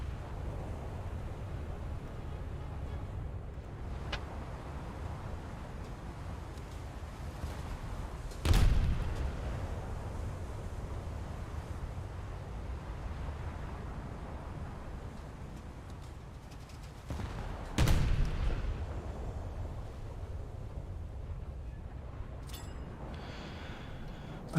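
Naval cannon fire from a German cruiser in a naval warfare game, aimed at a distant light cruiser: two sharp, loud gun reports spaced several seconds apart over a steady low engine and sea rumble.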